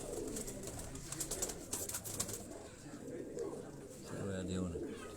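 Pigeons coo softly and steadily nearby, low murmuring calls layered with faint bird chatter and brief sharp clicks, while someone talks over them at times.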